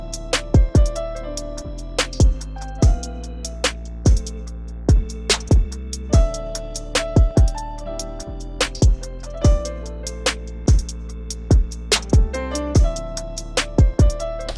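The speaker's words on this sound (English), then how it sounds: "Now we got the organ sound." An organ patch played in Ableton runs through a steady sustained chord bed, cut by regular sharp percussive hits in a looping beat, loud and close with no one talking.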